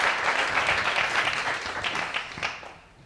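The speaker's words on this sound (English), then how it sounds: "Let's give a round of applause for Jess Dale." Audience applause for a speaker at a design talk, a moderate wash of clapping that holds steady and then tapers off near the end.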